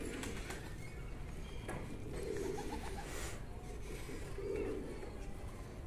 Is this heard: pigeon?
yes